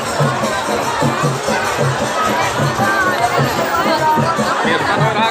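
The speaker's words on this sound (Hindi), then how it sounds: "बहुत भीड़ देख सकते हैं आप।" Dense crowd noise at the Mahashivratri fair at Mukteshwar Dham in Raebareli, a steady babble of many voices with shouts rising out of the hubbub, close and continuous throughout.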